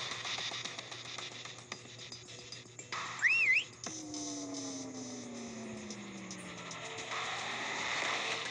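A prop whistle in a Call of Duty prop hunt match, heard as a short rising-and-falling whistle tune, followed by descending game tones over a faint steady hum.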